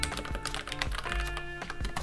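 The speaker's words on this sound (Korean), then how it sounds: "기계식 키보드 특유의 다각다각한 소리 덕분에 리드미컬하게 작업할 수 있어요" Rapid, steady keystrokes on a Logitech MX Keys for Mac keyboard, heard up close as a crisp clatter of quick, even taps with no talking.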